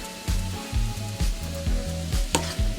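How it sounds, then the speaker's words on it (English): Lobster tails sautéing in a pan for coconut curry, a close crackling sizzle with a rhythmic series of thumps and scrapes from tossing or stirring, no voices. "saute them for 1 minute"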